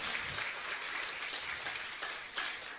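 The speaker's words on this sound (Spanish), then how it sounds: "Denle un aplauso al Señor." Church congregation applauding together during a sermon in a Spanish-speaking service, a steady, dense clapping that holds at an even level throughout with no break.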